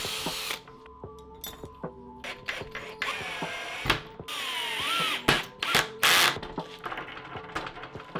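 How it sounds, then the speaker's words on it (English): A cordless power drill drives screws through wheels into an MDF board, whirring in repeated short bursts with ratcheting and clattering of parts between runs, close and fairly loud. "Then we can start to screw our wheels into the main MDF board."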